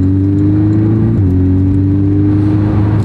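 A Porsche 718 Cayman S accelerating hard, a loud, steady engine drone with rising harmonics and a brief dip partway through like a gear change, close and continuous with no talk.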